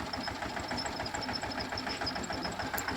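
Tractor engine running steadily while it drives a pesticide spray pump in a cumin field, a continuous mid-pitched rumble with a faint rhythmic knock and a high whine on top, close and loud, no talking.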